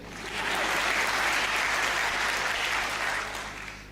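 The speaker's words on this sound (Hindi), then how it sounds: "तुमसे ताली भी नहीं बज रही" An audience at a Hindi comedy poetry show claps, a full burst of applause that swells quickly, holds steady and then tapers off at the end.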